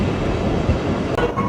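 Mongla commuter train at Singia junction, a steady close rumble of railcars with rattling wheel noise throughout.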